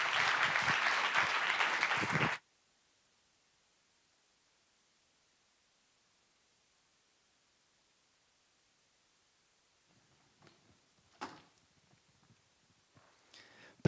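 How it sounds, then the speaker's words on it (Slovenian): An audience at a closing event welcomes the first group with a burst of loud, dense applause that cuts off abruptly after about two seconds, leaving near silence before a few faint knocks and rustles return. "Čas je, da z aplavzom pozdravimo prvo skupino Inženirke in inženirji bomo."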